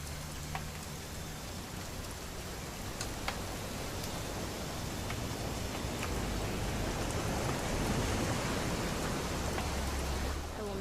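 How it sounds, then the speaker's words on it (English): Steady rain falls in a game scene, a dense even hiss that swells slightly toward the end, with faint drips and no talk over it. "It's gonna rain the whole weekend"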